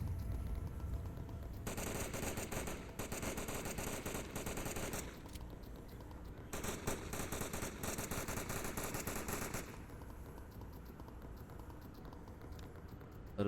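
Rapid FAMAS rifle fire in the VR shooter Onward, two dense bursts of loud continuous gunfire separated by a short pause, with quieter game ambience before and after.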